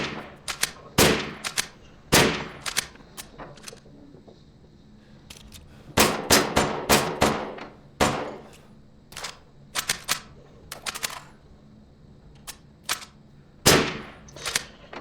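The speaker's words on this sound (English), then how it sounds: "Right now we have a spread of video of me just shooting targets here with a sniper rifle." Sniper rifle shots from a PlayStation VR2 shooting game, a series of sharp, loud reports in irregular bursts with short gaps, some fired in quick succession, followed by brief mechanical clicks and rattles.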